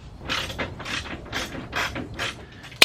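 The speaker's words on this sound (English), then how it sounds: "I just put the bolts on the bracket here. Just tighten these over here." A hand ratchet tightens bolts on a car bracket during an Integra build, giving five quick rasping bursts of pawl clicks in a steady rhythm. A sharp metallic tap follows at the end, close and moderately loud.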